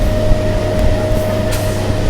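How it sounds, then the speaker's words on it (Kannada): Steady low rumble of a sixteen-car electric MEMU local train, two eight-car sets coupled with two pantographs, running along the rails, with a constant electric hum and faint higher whines drifting over it. "ಎರಡು ಟ್ರೈನ್ ಸೇರಿಸಿ ಮಾಡಿರುವಂತ ಒಂದು ಫುಲ್ ಟ್ರೈನ್ ಇದು"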